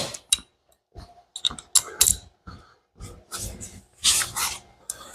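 A ratchet tightening a reducer bushing on the oil feed of a GT45 turbo on a Mustang, heard as close, irregular bursts of clicking pawl action separated by short pauses, with the bursts growing denser and longer toward the end, with no talk.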